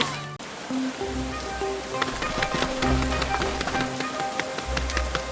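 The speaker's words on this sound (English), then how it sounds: "Rain starts falling. First a few drops, then heavy rain." Rain falls in a cartoon scene, a few scattered drops giving way to steady heavy rain, mixed with music and other background sounds throughout.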